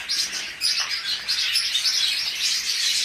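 A dense flock of budgerigars in a crowded bird shop chirps and chatters continuously. The shrill calls sound close and loud, with no talking over them.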